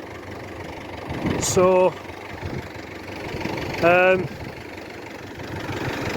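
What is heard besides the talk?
David Brown 1210 tractor engine running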